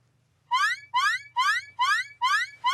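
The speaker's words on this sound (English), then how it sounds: "You set off the alarm." Electronic alarm going off in a repeating pattern of five rising chirps, each about half a second long and evenly spaced, steady and fairly clear with a low hum beneath.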